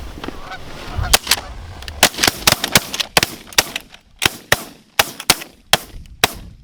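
Shotguns firing at geese during a goose hunt in North Dakota, a rapid volley of a dozen or more sharp, loud shots in quick succession from several guns, close by, with goose honks before the shooting.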